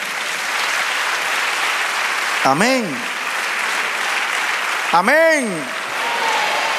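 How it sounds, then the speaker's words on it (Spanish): A church congregation applauds during a worship service. The clapping is loud and steady the whole time, and a voice calls out briefly twice over it. "Dale aplauso al Señor."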